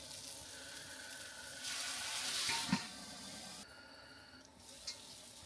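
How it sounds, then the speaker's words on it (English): Beer poured onto a hot Tembo Tusk skottle griddle with cheese-topped food sizzles and hisses into steam, a faint continuous crackle that swells for a moment and then settles. "pour a little bit of beer in here and steam it all"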